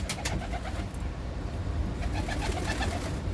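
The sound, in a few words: birds in a coop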